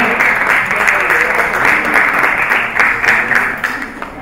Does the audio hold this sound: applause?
yes